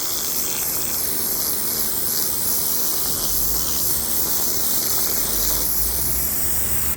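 Karcher K2 1750 psi pressure washer blasting water into cracks to clear weeds from a path, a continuous loud hissing spray with steady rushing texture and no talking.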